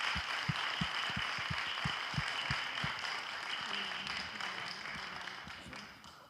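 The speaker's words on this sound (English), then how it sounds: "how about a round of applause, please," An audience at a college athletics recruiting night applauds the coaches, a brief crowd clapping that begins with several sharp distinct claps and then thins out and fades.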